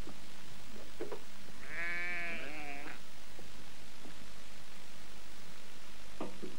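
A small brown primitive sheep of a semi-wild island breed from off Scotland's west coast gives one clear, wavering bleat lasting about a second, with quiet outdoor ambience and faint knocks around it.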